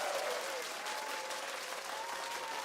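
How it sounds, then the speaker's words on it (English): An audience at a tech and advertising panel claps steadily to welcome a guest, a continuous, even wash of applause at moderate level with no talk over it. "Let's all welcome Cory with a big hand clap."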